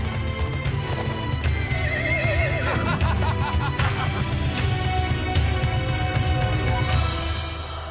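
Tornado the horse galloping and neighing in a French Zorro cartoon, loud repeated whinnies over steady clip-clop hoofbeats and a musical score, fading slightly at the end.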